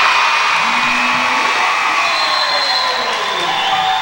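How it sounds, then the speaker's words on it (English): Crowd at a girls' high school basketball game chanting a countdown to the end of the quarter, a loud, dense mass of voices that swells and falls over about four seconds. "Crowd counting down the quarter."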